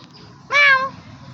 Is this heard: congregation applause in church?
no